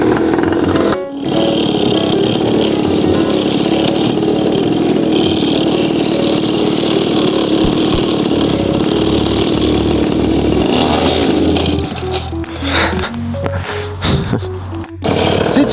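A motorcycle engine revs and holds steady throttle during wheelie practice, loud and close, then sputters and blips in short revs near the end.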